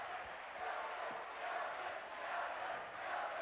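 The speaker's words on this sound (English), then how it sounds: "Crowd was chanting for Derek Nelson to come into the game" A packed crowd at a 1998 boys' high school basketball final chants for a player to be sent in, a dense roar of many voices rising and falling in waves across a few seconds.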